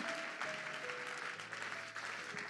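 A church congregation claps in steady, dense applause that fills the room throughout, with faint voices mixed underneath.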